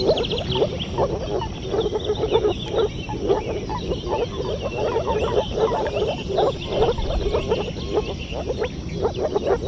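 Poison dart frogs call in a rapid, steady series of croaks that pulse without a break through the whole stretch over constant natural background noise.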